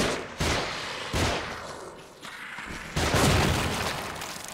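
Gunshots and blasts in The Evil Within, a horror video game, arrive in several loud bursts separated by short gaps, with a heavier sustained volley near the end.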